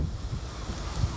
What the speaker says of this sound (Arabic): الشاطئ فيه شويه الامواج اليوم